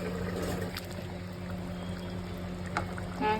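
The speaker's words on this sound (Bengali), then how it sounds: "এবার আমি গরম জল দিয়ে দেবো, ভালো করে নেড়ে চেড়ে ঢাকা দিয়ে দেবো" Hot water poured into a cooking pot of maan kachu (giant taro) with prawns, a steady close liquid pour and splash running throughout, with no talking.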